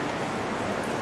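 Continuous hiss of water flowing inside the Han caves in Belgium, steady and even with no voices.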